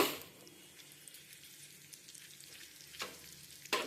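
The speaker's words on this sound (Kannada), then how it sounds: "ಈಗ ಇಲ್ಲಿ ನೋಡಿ ಒಗ್ಗರಣೆ ಆಗ್ತಾಯಿದೆ" Dry chilli, curry leaves and urad dal crackle as a tempering in hot oil, a soft steady close sizzle with a couple of sharper pops and stirring clinks near the end, no talking.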